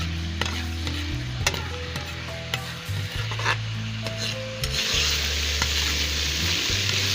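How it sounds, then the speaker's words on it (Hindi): Close, steady sizzling of garlic and ginger frying in a pan for chicken karahi, with occasional stirring clatter and a low hum underneath; no talking. "ये लहसुन अदरक फ्राई हो गया।"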